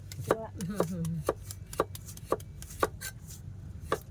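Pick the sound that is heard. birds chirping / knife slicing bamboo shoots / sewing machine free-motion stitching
knife slicing bamboo shoots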